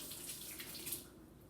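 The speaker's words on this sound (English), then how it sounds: "And I'm going to rinse my hand." Tap water runs steadily into a sink while a hand is rinsed clean of egg, a continuous close splashing hiss throughout with no talking.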